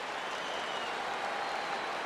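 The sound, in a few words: crowd cheering in baseball video game MLB The Show 15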